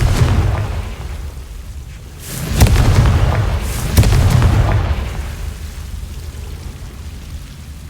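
A Confringo spell explosion in the Hogwarts Legacy video game, two deep booming blasts in quick succession over a rumbling game ambience, loud and alone.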